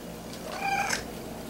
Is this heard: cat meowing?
yes